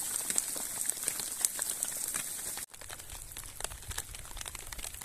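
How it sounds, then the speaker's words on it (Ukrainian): Heavy autumn rain in the mountains near Vorokhta, Ukraine, a dense, steady crackling patter of drops on a nearby surface, continuous and fairly quiet, with no talk. "Дуже сильний дощ"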